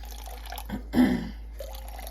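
Water is poured into a bowl on a kitchen scale for sourdough: one short, soft splash and trickle near the middle, close and fairly quiet, against a still room.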